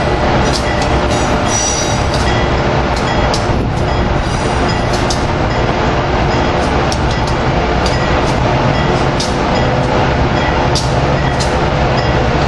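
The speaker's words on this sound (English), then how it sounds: "And then we got a CSX freight on the other side." A CSX freight train rolls past at a rail yard with a loud, continuous rumble and repeated high wheel squeals, close by and steady throughout.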